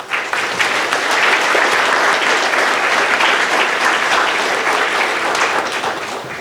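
Loud, steady applause from a large audience at a university commencement ceremony in Sitka, continuous and dense throughout without a break.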